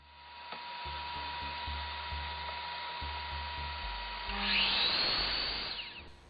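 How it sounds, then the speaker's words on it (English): Power saw running steadily while cutting wooden tenons to length for cabinet doors, a continuous close whirring drone that swells louder near the end as the blade bites through, no speech. "Cut the tenons to length."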